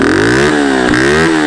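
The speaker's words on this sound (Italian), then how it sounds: "questo è un vero 125 quattro tempi, motore termico versus elettrico" A 125cc four-stroke motorcycle engine revs loudly up close, its pitch rising and falling in quick blips during a sound check.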